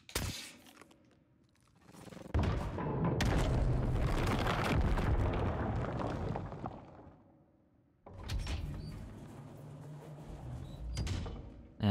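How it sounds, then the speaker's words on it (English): A grenade fired into a platform in the game Scorn, a heavy booming blast that swells and rumbles for several seconds, a brief quiet, then a second grinding mechanical roar. "Let's try shooting a grenade into it."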